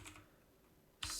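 Keys on a computer keyboard click quietly in two short bursts, a brief patter at the start and a sharper cluster of keystrokes at the end, separated by near silence.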